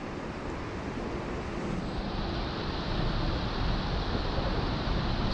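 Swift river water rushes as a steady, dense broadband roar, close and loud, with no pauses or talk over it.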